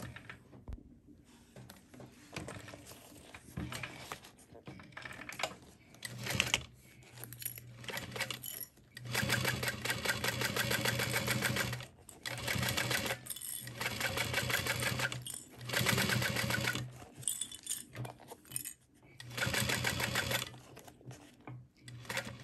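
A sewing machine backstitching fabric binding on a small wristlet, running in close rhythmic bursts of rapid needle clatter with short pauses between runs, steady and fairly quiet.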